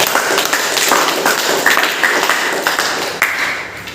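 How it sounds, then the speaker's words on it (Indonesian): A class of students claps hands during a lesson, a lively, uneven patter of many hands close by that keeps going for several seconds, with no talking over it. "Oke, tepuk tangan."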